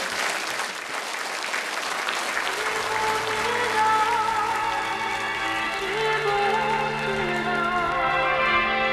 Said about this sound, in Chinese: 掌声给他鼓励一下。